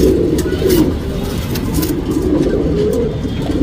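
A male pigeon of a paired racing or tournament bird coos close by, deep rolling calls repeating steadily through the moment with no talk.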